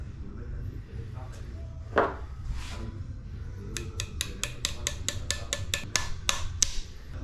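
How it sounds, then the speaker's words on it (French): Rapid series of light metallic taps from a small hammer, about ten sharp strikes in quick rhythm, preceded by a few scattered knocks over a low background rumble, during brake work. "Je prends un petit marteau."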